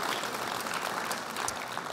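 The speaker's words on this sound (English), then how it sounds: "let's give them a great big round of applause, thanking them for their generosity" Audience applause at a piano concert, a steady, fairly quiet patter of many hands clapping continuously throughout.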